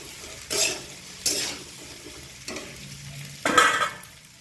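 Cut okra (bhindi) in oil in a pan for an aloo-bhindi dish, a faint low sizzle punctuated by four separate bursts of spatula scraping and stirring, fairly close.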